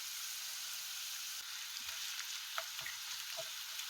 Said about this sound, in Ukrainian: і підсмажуємо нашу цибульку